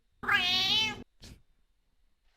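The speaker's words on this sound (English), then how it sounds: "Listen to this cat and tell me it's not a fucking Scouser." A cat gives one long, loud, drawn-out meow, then a short second call after a pause, close and clear with no talking.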